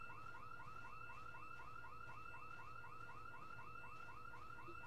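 A car alarm in Project Zomboid blares continuously, its rapid repeating whoop cycling steadily and evenly at a moderate distance, with no other sounds.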